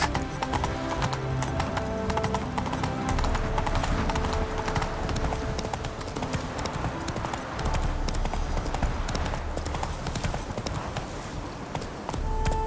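Horse hooves gallop in a steady, continuous clip-clop beat through the streets of Novigrad in The Witcher 3, loud and close for the whole stretch, with game ambience and occasional background voices mixed in.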